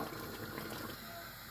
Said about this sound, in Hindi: एक कप पानी ऐड करेंगे और प्रेशर बंद कर देंगे।